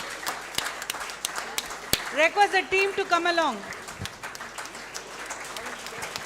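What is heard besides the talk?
audience applause for best speaker award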